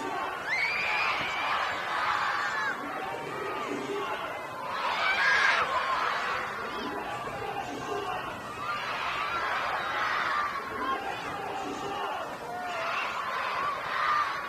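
Football crowd at a men's NPL New South Wales match between Sutherland Sharks and St George City, reacting after a free header goes wide, a broad sustained roar of voices rising and falling across the whole stretch.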